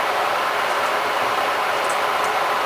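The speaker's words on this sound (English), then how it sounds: "that's my kettle boiling right beside the camera" A steady, hissing roar of an electric kettle nearing the boil, close by and constant throughout.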